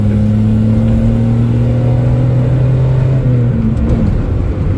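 Engine of a Geo Metro car on the highway, a loud steady drone and whir that holds pitch then dips as it shifts gear, continuous with no talk.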